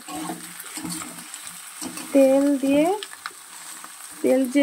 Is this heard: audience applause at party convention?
no